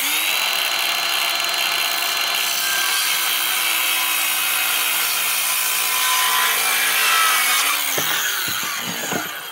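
Continuous power saw cutting through a wooden board, a steady loud whine with grinding bite for about eight seconds, then the blade spins down with a few clacks at the end.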